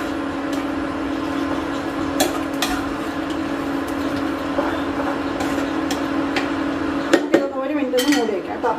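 A spoon scrapes and clinks against a pan while peanuts and lentils are stirred, irregular metallic taps over a constant stovetop hiss, busier and louder near the end.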